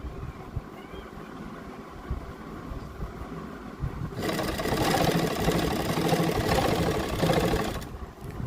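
Sewing machine stitching an invisible zip onto a kurti, quiet at first, then a steady loud whirring run of stitching for about four seconds that stops near the end.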